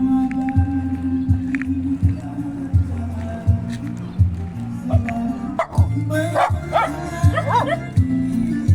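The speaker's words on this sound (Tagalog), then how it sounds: "Mga aso." Guard dogs bark and yip repeatedly at close range over steady background noise in Poblacion, Anahawan, Southern Leyte, with a few higher whimpering calls near the end.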